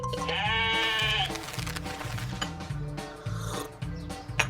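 A sheep on a farm lets out one long wavering bleat near the start, followed by a few shorter, fainter calls, all over a steady beat of background music.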